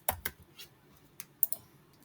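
Computer mouse clicks and keyboard taps come in a few sharp, quiet, close clicks spaced irregularly over a couple of seconds, alone without speech.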